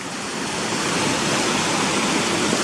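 Stream water rushing through Gunnerside Gill, a steady loud broadband roar of flowing water close by, continuous and unbroken with no voices.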